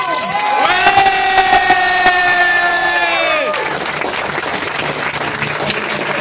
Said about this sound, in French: On peut lui faire un tonnerre d'applaudissements.